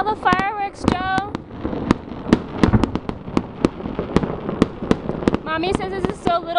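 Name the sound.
New Year's fireworks exploding outside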